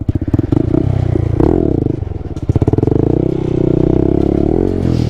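A Honda Grom motorcycle popping a slow, low wheelie in first gear, its small engine chugging loudly and unevenly up close, rising and falling with the throttle, with some clattering, and no talking.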